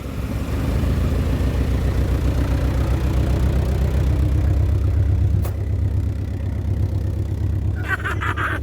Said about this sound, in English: The engine is still running. We're just not actually rolling anymore.